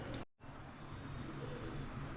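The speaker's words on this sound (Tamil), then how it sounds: "குழம்பு நல்லா கொதிச்சிருச்சு பாருங்கள்." Steady low bubbling and simmering of fish curry boiling in a clay pot, a dense crackly texture with a brief dropout near the start.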